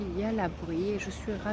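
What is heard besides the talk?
No distinct noise like a dog, phone or traffic.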